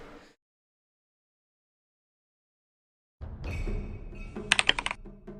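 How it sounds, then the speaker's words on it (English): Keys clatter on a computer keyboard after a long silence, a close burst of rapid typing ending in a few louder clacks, with no talk. "that's a nice keyboard"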